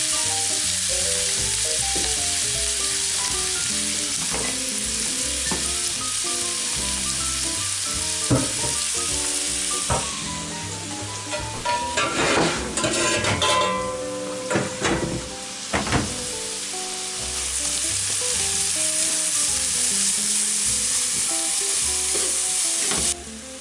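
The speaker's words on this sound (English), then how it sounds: "First up, the onions. We're gonna cook them up nice and brown." Onions frying in a pan as they cook down to brown, with a loud, steady sizzle throughout and scraping stirs and clatter in the middle stretch.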